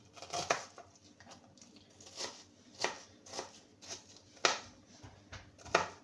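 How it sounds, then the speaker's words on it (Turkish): Onions are finely chopped with a knife in a home kitchen, producing a series of crisp, evenly spaced cutting knocks close by, with no talking. "soğanlarımı küçük küçük doğrayacağım."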